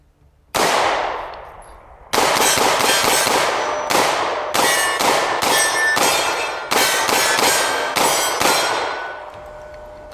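Sig P365 Legion pistol fired through a second magazine after being buried, a string of about ten sharp, loud shots with a pause after the first, then rapid irregular reports with ringing tails.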